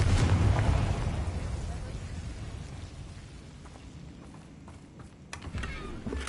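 A Confringo spell explodes in the Hogwarts Legacy video game with a loud booming burst at the start that fades into a rumbling tail, followed by scattered faint crackles.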